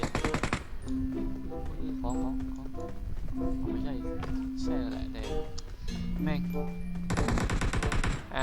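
Rapid video-game gunfire bursts throughout, loud and dense, with excited voices talking over it nearly the whole time.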